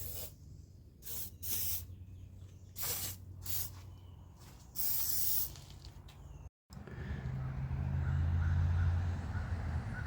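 Carb cleaner sprayed onto a camshaft engine in short hissing aerosol bursts, several separate spurts, then a short gap followed by a longer steady spray, close and fairly quiet with no talking.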